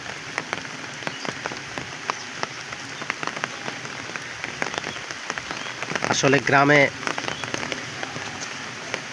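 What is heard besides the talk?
light drizzling rain in a village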